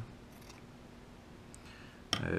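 A single quick snip of scissors cutting a strip of cotton wick for rebuilding a Kangertech Subtank coil, close and crisp after a quiet stretch with faint handling clicks.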